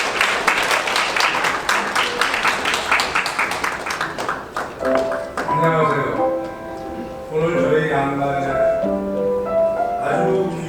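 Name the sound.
wedding guests applauding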